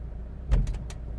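An Opel Astra J automatic gearbox clunks harshly into drive as a single short thud with a rattly knock right after, heard close inside the quiet car.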